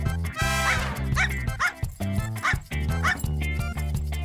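A cartoon dog barks and yips in quick, bouncy bursts, several short yaps in a row with little whimpering tones, loud and up front over a light music bed.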